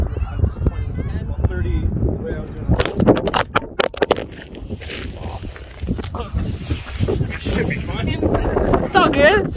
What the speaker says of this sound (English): Just get out of the wind there